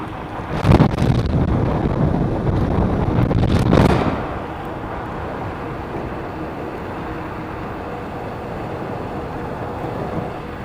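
Strong wind of about 50 km/h buffets the microphone while riding an Apollo Ghost electric scooter at over 60 km/h in freezing winter conditions at 3 a.m., with heavy roaring gusts for the first few seconds before settling into a steadier rushing rumble.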